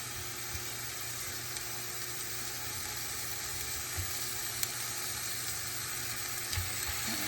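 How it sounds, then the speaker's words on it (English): Chicken pieces laid skin side down in a pan, for oyakodon, give a steady, close sizzle that holds at an even level throughout, with a few faint pops and no voices. "we're just gonna lay the chicken onto the pan here like so, skin side down"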